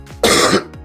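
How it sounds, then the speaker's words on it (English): A single throaty cough or throat-clear from a man, close and loud, sharp at onset and fading within about half a second, alone with no talk around it. "I need to cough, hold on."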